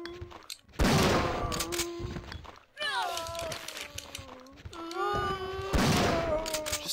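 Three heavy shotgun blasts in Resident Evil 3 gaming, spaced a couple of seconds apart, each a loud broadband boom with a ringing tail, with a voice and creature-like wails running between and under the shots.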